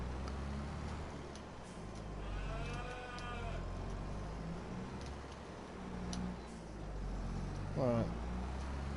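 A cow in Farming Simulator 2022 lets out a drawn-out moo at moderate distance, followed later by a second shorter rising call, over steady farm machinery hum.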